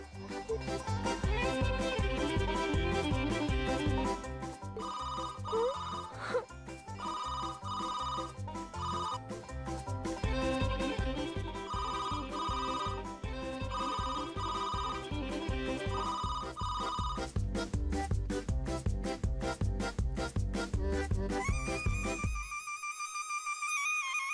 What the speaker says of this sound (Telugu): ఎవరైనా ఫోన్ లిఫ్ట్ చేయాలి.